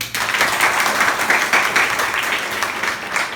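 Schoolchildren in a classroom at a composite school clap loudly together, a dense, bright, continuous burst of many small hands with slight pulsing swells and no talking.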